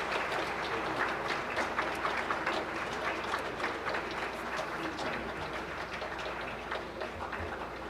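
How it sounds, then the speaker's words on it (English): Audience applause at the Seoul Forum 2025 conference, a continuous patter of many hands clapping, moderately faint and steady throughout, with a voice briefly audible at times. "Now we need your powerful applause."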